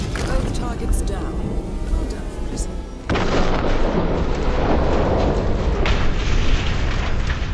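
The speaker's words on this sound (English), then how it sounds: "we are going to detonate the explosive and watch Sierra Knox veer wildly off the track to her death" An explosive goes off in Hitman 2 at a Miami race track, a sudden loud blast that swells into a long, roaring rumble over the din of the crowd and the race.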